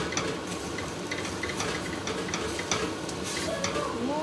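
Utensil scraping and stirring through sweet potato curry in a pan, steady close scraping strokes over a low simmering sizzle, with no voices.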